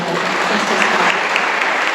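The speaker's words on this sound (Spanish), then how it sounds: "Denle un aplauso al Señor." Loud, dense applause in a church congregation praising the Lord, a continuous wash of many hands clapping at close range with no voices over it.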